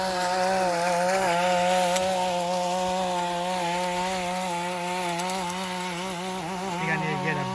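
A loud petrol lawn edger runs steadily at a property under construction, its engine drone holding a constant pitch throughout, near and continuous with no talk over it.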